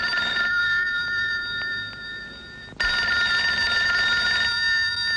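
A telephone bell rings loudly indoors with a continuous trilling tone, breaking off briefly in the middle before a second long ring resumes just as strongly.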